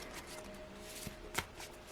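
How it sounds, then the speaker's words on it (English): A deck of tarot cards is shuffled close by, a soft riffling rustle with a couple of sharper slaps, faint over a quiet background hum. "I've shuffled these really well"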